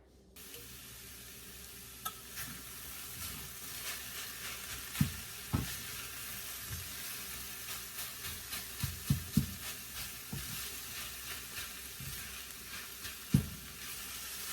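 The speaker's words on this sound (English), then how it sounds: "So I'm browning the tofu and peppers over a medium heat." Tofu and peppers stir-frying over medium heat in a pan make a steady close sizzle, broken by occasional clacks and scrapes of a utensil, with no talking.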